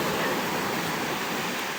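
Continuous broadband roar of sizable sea waves breaking on an Odesa beach, loud and steady with no distinct individual crashes and no talk.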